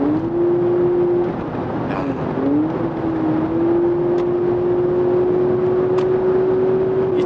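Honda Accord Hybrid 2.0-litre Atkinson cycle direct-injection engine accelerating under full throttle, a steady rising drone that dips briefly then climbs smoothly, heard from inside the car with no talking.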